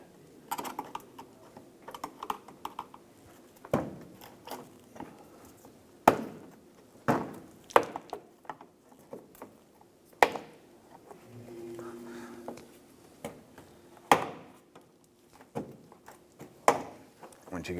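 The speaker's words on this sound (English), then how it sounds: "We're going to use a pick in our trim tool here to go ahead and" Plastic fender liner push-pin buttons popped out with a pick and trim tool on a 2006-2013 Chevrolet Impala, heard as a series of sharp close clicks and snaps spaced irregularly, with brief scraping between them.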